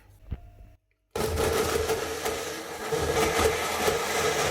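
A kitchen blender blitzes pesto with pine nuts, starting abruptly after a brief quiet tap and running as a loud, steady, gritty whir that stays strong to the end.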